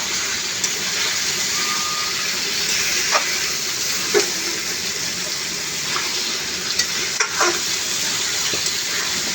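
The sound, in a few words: stirring garlic and spices frying in a pan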